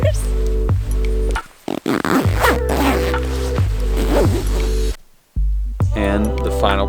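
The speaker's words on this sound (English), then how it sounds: "So many zippers." Zippers on sleeping bags being zipped up inside an ice hotel built of snow and ice, a few quick rasping pulls heard close under steady background music, with a short pause near the end.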